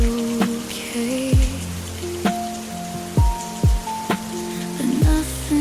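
Steady rain patters on glass under soft, slow lofi music with deep thumping beats and sustained tones.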